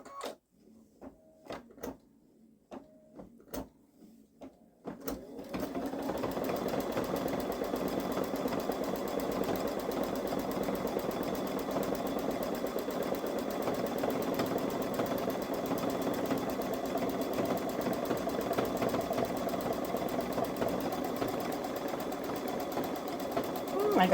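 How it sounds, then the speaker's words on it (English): A Babylock Solaris 3 embroidery machine runs a tack down stitch: a few isolated taps at first, then a steady, continuous mechanical whir close by with no talking. "the next one is we're going to run the tack down stitch"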